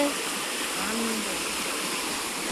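Steady broadband rushing of river water flowing, continuous and even throughout, with no voices or distinct events standing out.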